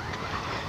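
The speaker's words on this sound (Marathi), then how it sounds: "कोणाची गाडी आली?" A car pulls up on a rural farm road near an irrigation canal, its engine a steady, moderately close rumble filling a brief moment with no talk.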